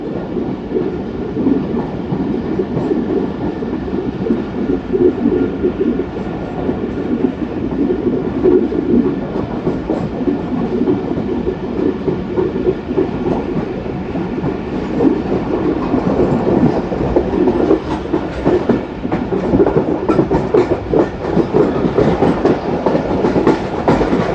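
The Pakistan Express rolls along the tracks toward Fort Rohtas, heard from inside a nearly empty coach as a loud, steady rumble with rhythmic clickety-clack of wheels on rail joints.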